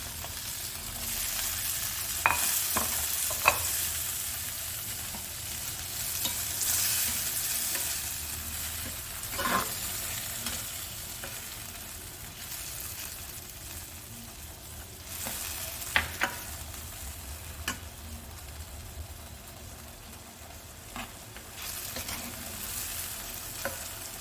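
Eggplant frying in a pan over sugar, a continuous low sizzle throughout with occasional stirring scrapes and small taps of a utensil, close and moderately quiet.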